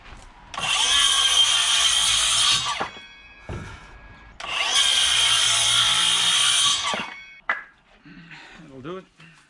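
Power drill driving screws into timber fixed to a wall for a toilet cistern, two long whirring bursts of about two seconds each, close and loud, with brief handling noises and a short voice at the end.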